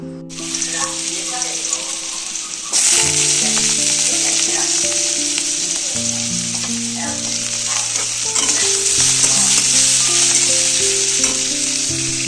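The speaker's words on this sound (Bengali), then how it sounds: "তো এদিকে আলু ভাজা বসিয়ে দিয়েছি, ঢেঁড়স আলু ভাজা হবে।" Potato and okra fry in a pan, giving a steady close sizzle that grows louder and denser after a few seconds and holds for the rest. Music plays underneath.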